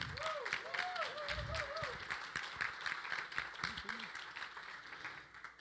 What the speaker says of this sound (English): A round of applause for Ernest Behrens for putting together this ceremony.